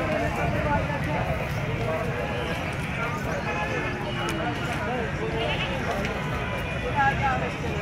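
Goats bleat at a crowded livestock market in Pakistan, with calls rising from a dense, noisy background of crowd murmur and movement, and people talking nearby throughout.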